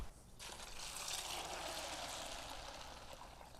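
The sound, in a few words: water poured over fishing bait in a bucket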